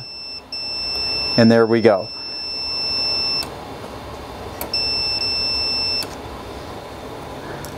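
A continuity tester beeps while testing thermostat wiring to a gas fireplace valve: a steady electronic tone holds for several seconds, breaks off, then sounds again, after a short burst of speech near the start.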